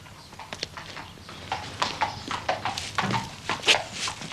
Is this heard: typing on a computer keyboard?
no